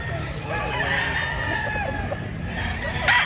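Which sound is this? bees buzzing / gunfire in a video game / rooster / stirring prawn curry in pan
rooster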